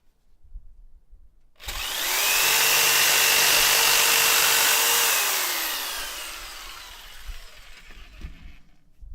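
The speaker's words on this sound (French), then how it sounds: "Là, on peut y aller à la scie sauteuse." A jigsaw starts up abruptly and runs loud and steady for several seconds cutting wood, its whine shifting in pitch as it cuts, then tapers off.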